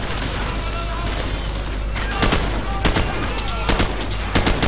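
Rapid bursts of gunfire in Call of Duty 4: Modern Warfare crackle over a dense, noisy backdrop, with sharper volleys clustering toward the end.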